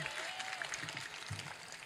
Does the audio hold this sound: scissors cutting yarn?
no